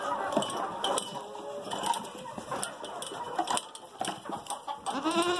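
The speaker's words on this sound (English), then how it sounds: "we have cute goats." Goats at a farm shop bleat repeatedly in several overlapping voices, close by, against a busy farmyard background with other livestock and a little faint talk.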